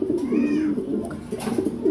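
A domestic pigeon coos close by, with soft, throaty, rolling calls in two short phrases separated by a brief pause.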